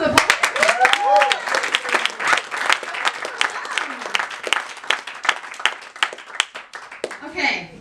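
At a spoken word poetry event an audience claps and whoops for the poets, steady applause with cheering voices over it that tapers off toward the end.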